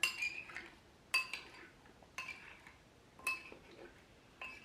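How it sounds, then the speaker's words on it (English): A spoon stirs apples in a dish, making soft, regularly spaced clinks against the dish, about one each second, quiet and close with no voices. "now I'm just gonna take the apples, stir them good, and put them back in for another minute"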